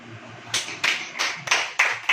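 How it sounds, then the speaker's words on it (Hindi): A church congregation claps in unison, six sharp, evenly spaced hand claps building in a steady rhythm over quiet background. "ताली बजाओ"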